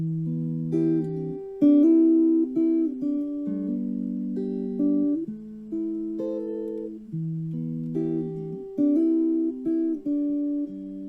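Clean guitar picks the repeating intro of a song, notes plucked and hammered on in a steady flowing pattern, close and clear with no talking.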